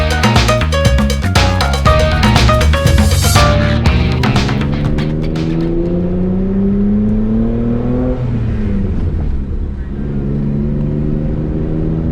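A BMW M3 engine revs and accelerates while driving, the comparison pairing an S52-swapped E30 M3 with a clean E36 M3; a loud, steady engine note climbs in pitch through gear changes, with music-like harmonics throughout and no talk.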